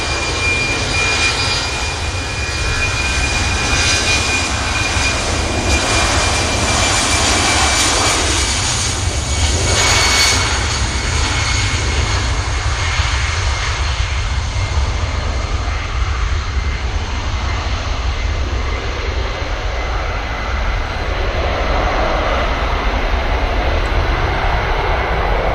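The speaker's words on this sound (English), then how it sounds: "Brussels takes off from 2-3 left here at Manchester" A Brussels Airlines jet takes off from runway 23L at Manchester Airport, its engines holding a loud, sustained roar with a thin whine on top that swells briefly and then rumbles on steadily, with no talking.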